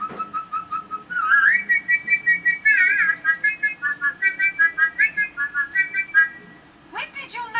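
A person whistling a tune, a clear melodic line of short repeated and held notes that runs close and fairly loud for several seconds, with a breathy note at the end.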